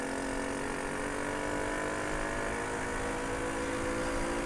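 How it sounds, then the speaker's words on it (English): A Lexmoto Aspire 50cc motorbike engine held at full throttle produces a steady, unbroken drone mixed with wind rush. It stays loud and constant throughout, with no talking. "That's full throttle to get up here."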